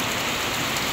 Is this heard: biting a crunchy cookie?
no